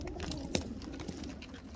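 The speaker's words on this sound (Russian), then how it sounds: "И вот они, мои голуби." Pigeons near a dovecote tower, soft low cooing from several birds, faint and close, with a brief sharper sound midway.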